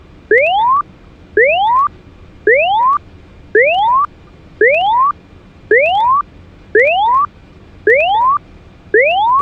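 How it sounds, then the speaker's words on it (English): A smoke detector test warning in a C-130J Super Hercules cockpit simulator game sounds as a loud electronic tone rising in pitch, repeated nine times at a steady pace with short gaps, alone. "Go ahead and run the smoke detector test now."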